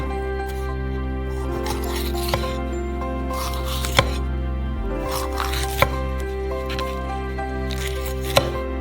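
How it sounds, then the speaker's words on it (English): A knife chopping through a red pepper on a cutting board, a series of crisp, separate cuts with a few sharper knocks, heard close over a steady background hum. "Cut off the pulp from a red pepper."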